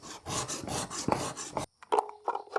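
A blade is stroked across a 300 grit diamond sharpening stone in steady rhythmic rasping passes, close and fairly loud, then a brief pause followed by a few shorter, sparser strokes.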